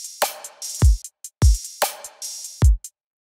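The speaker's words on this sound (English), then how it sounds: "The drums are pretty simple. They just sound like this on their own." A simple trap drum pattern for a future bass track plays alone: punchy deep kicks, crisp snare claps and short hi-hat ticks in a sparse, steady loop, with no voices.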